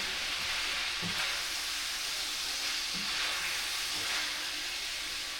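Salmon sears in a hot pan for jerk salmon fried rice, giving a steady, loud, close sizzle that holds evenly throughout, with a few faint low knocks and no voices.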